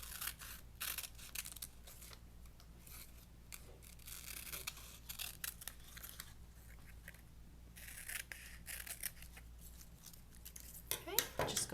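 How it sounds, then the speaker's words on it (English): Scissors trim out a printed paper image, giving a run of small crisp snips and paper rustles close by, with brief quiet gaps and a louder handling noise near the end. "I'm going to trim out the image."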